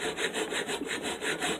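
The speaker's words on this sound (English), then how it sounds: "I'm going to get a little dovetail saw, angle saw, whatever, and try to get as close to that line as possible." A small dovetail saw cuts through wood clamped in a vise, its steady back-and-forth strokes rasping close and even, about six strokes in quick rhythm with no talk.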